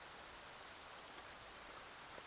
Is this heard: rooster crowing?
no